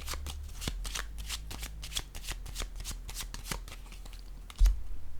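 A deck of tarot cards being shuffled close up, a quick run of crisp riffling slaps and flicks repeating steadily, ending with a soft thud, no talking.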